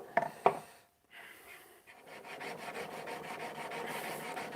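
A chisel edge is rubbed back and forth on a sharpening stone in a steady rasping rhythm, close and fairly quiet, after a couple of knocks at the start.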